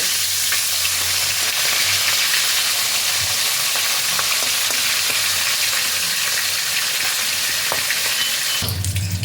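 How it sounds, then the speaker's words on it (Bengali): Fish heads frying in oil produce a dense, loud, unbroken hiss of sizzling, heard close up with a few faint crackles, and shift abruptly in the last moment. "এবার আমি এগুলোকে উল্টে অপর পিঠটাও ভালো করে ভেজে নেব।"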